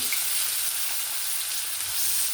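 Potato pieces fry in oil in a pan just after the fish has been fried, a dense, even hiss of sizzling that holds steady throughout, close and without talk.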